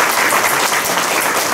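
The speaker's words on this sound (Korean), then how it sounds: "제 말씀에 동의한다면 큰 박수 한번 부탁드립니다" A crowd at a public data supporters' launch ceremony in Chungnam gives a dense, loud, steady round of applause that fills the whole short stretch without any speech.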